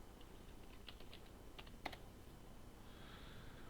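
A password is typed on a computer keyboard during Windows 98 SE setup, a short run of quiet, scattered keystrokes with one sharper tap, set against a soft background hiss.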